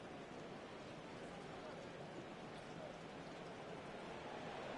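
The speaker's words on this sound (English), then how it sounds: "The rain set to continue as we are underway in the 2nd half." Steady broadband hiss of heavy rain falling over a football stadium during a Madden NFL 24 game between the Dolphins and Commanders, a constant even wash with no breaks.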